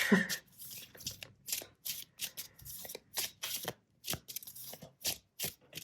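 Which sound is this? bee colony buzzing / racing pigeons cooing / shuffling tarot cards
shuffling tarot cards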